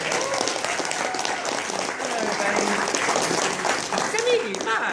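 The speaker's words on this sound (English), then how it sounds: "Playing a huge round of applause." Panel audience gives Charles Martinet a big round of applause, thick continuous clapping with scattered cheers and voices over it, loud and steady throughout.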